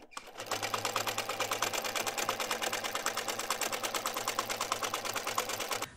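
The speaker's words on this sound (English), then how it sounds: "let me crack on with the rest of the sewing" Sewing machine stitching pairs of scrap quilt blocks, a fast, even run of mechanical clatter that goes on steadily for several seconds, close and clear with no talk.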